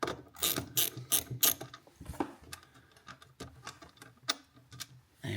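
A ratchet with a 10mm socket working bolts loose on a Land Rover Defender L663 windscreen cowl panel, rapid close clicking in quick bursts followed by scattered single clicks, quiet with no talking.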